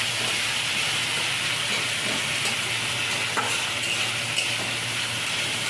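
Onion and vegetables fry in a pan for a Bengali dish of Malabar spinach with hilsa fish head, producing a steady, even sizzle with soft stirring scrapes and no voices.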